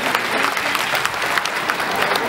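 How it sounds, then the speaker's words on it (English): Audience applause at a seal show at Taronga Zoo in Sydney, a steady, dense wash of many hands clapping from a crowd, loud and continuous throughout. "give him a big round of applause and wave goodbye"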